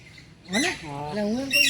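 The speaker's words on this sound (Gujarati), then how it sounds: "આ હે પહાડી પોપટ" A hill parrot lets out a few harsh, rising squawks close by, with short gaps between calls, at Sakkarbaug Zoo in Junagadh.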